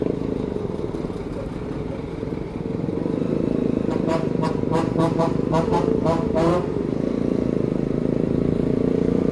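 A long queue of motorcycles waiting under the Tagum City flyover, engines idling in a steady rumble with a brief burst of clattering nearby, and a voice faintly speaking.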